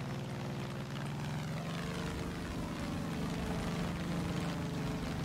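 Propeller plane flying in the video game Far Cry 5, a steady droning engine hum with a low buzzing tone that holds constant and loud throughout, with no talk over it.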